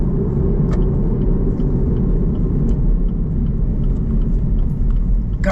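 A 455-horsepower V8 Camaro engine rumbles deep and steady throughout, a continuous low drone of driving with a brief faint click near the start.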